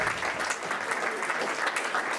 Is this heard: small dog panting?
no